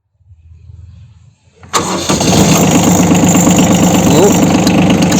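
A cold Kubota B52 compact tractor's diesel engine cranks briefly, fires at about two seconds, then settles into a loud, steady idle with a rhythmic knock, preceded by faint low rumbling.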